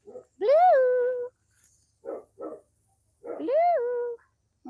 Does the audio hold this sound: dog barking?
yes